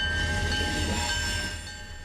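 Freight train hauling Bakken crude oil along a railroad, a loud continuous rumble of rolling cars with a steady high tonal whine from the wheels, easing slightly toward the end, no voices.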